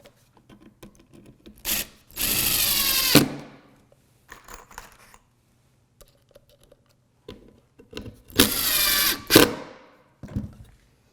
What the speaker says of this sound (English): And I'll put a couple screws in.